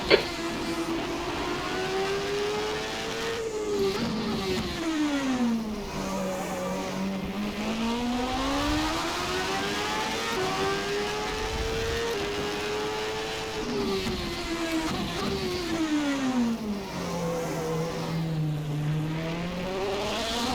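An F1 car howls around the Bahrain circuit in the Assetto Corsa racing game, its engine pitch swinging up through the gears and dropping sharply under braking, loud and continuous throughout.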